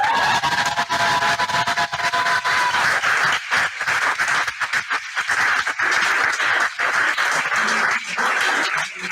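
Steady, dense applause from an audience at a diploma ceremony for specialized educators, continuous clapping filling the hall with little speech.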